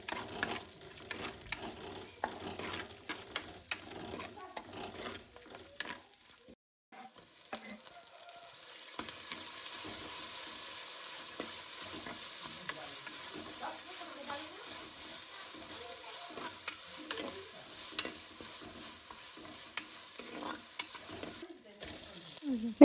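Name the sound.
frying garlic, green chili and curry leaves in a pan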